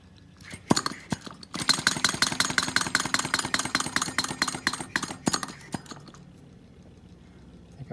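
A small flame-sucker engine burning denatured alcohol runs alone at close range, giving a rapid, steady mechanical chatter of regular beats, with a few louder knocks before it settles and slows toward the end.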